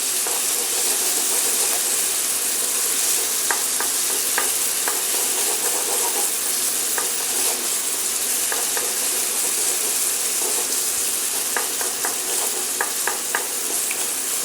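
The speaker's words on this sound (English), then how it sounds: "once that's fried for about a minute, 40 seconds or so, then you can stir it all together" Tomato paste sizzles and fries in a hot pan, giving a steady loud hiss with scattered crackles and pops throughout.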